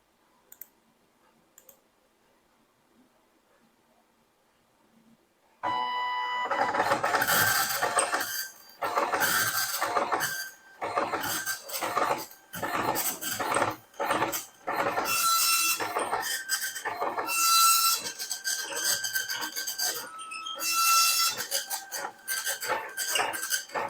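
A sales-invoice printer starts after a few seconds of near silence, then keeps up loud mechanical chattering and clicking in rapid, uneven bursts with short pauses. No one speaks.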